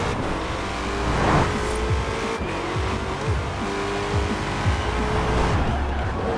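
A 2020 Shelby GT500 muscle car's stock engine roars and shifts through gears at speed in Forza Horizon 4, with tire squeals and a steady high-revving drone.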